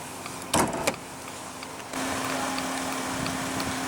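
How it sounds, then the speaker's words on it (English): The automatic driver's side power window of a 2015 Dodge Journey with a 3.6 L V6 runs with a brief click and thump, then a steady, close electric motor whir as the glass travels. "Automatic driver's side window."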